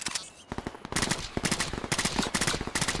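Rapid automatic gunfire rattles in the shooter video game Off the Grid, loud close bursts of sharp repeated shots in quick rhythm after a brief quieter moment, with no speech over it.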